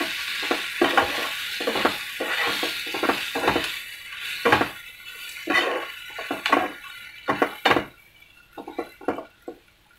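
A spoon stirs coriander powder, salt and chili flakes in a hot pan for paneer jalfrezi, with a continuous sizzle under repeated scraping and clinking strokes in an uneven rhythm, close and fairly loud, the frying fading toward the end.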